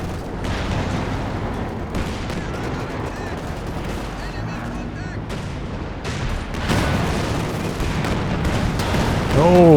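PTAB bombs strike in a Company of Heroes 2 4v4 battle, loud booming impacts and crackling gunfire layered over a dense wartime din, swelling louder toward the end, with a voice talking over the action.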